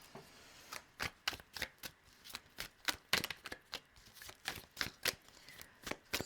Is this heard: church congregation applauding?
no